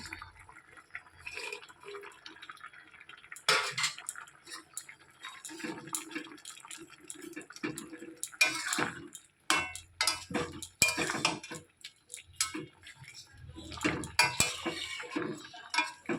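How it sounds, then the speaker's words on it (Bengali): Fried fish pieces go into a pan of boiling curry, bringing clinks of utensils against the pan, wet sloshing and bubbling liquid in bursts, close and fairly quiet with no talking. "এবার ভেজে রাখা মাছগুলোকে দিয়ে দেবো"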